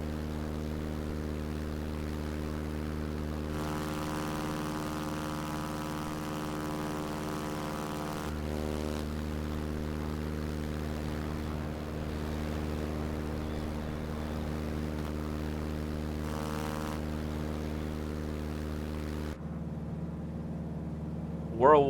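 A T-6 Texan propeller aircraft in the simulator MSFS 2024 drones steadily with a strong tonal engine hum, pitch shifting slightly as power changes, before the engine note cuts off near the end.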